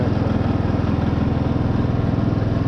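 A Husqvarna ride-on tractor engine runs steadily nearby, a constant mid-pitched drone with a fast regular pulse, the noisy rear axle blended into the hum.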